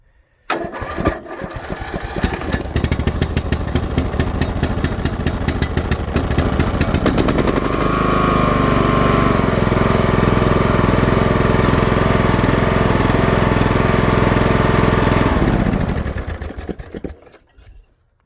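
Briggs & Stratton 18 hp engine, choked and started, cranks briefly, then catches and runs at a loud, steady roar for about fifteen seconds before shutting off and dying away.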